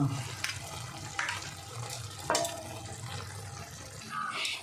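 Ground whole spices being stirred and mixed into a cooking pot, with soft scraping and clinks of a spoon against the pot over a low simmering hiss, fairly quiet and close.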